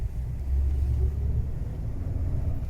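A 1987 Chrysler Fifth Avenue with a 318 V8 produces a steady low rumble while driving, the engine note holding fairly constant and close with no talking.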